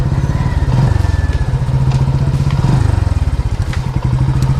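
Motorcycle engine running close by with a steady low chugging pulse and some clatter, the bike being moved inside, loud and continuous with no clear talk.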